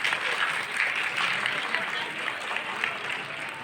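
A crowd at an International Women's Day event in Dhanbad, India, claps loudly and continuously to welcome women and girls, with a speaker's voice over it.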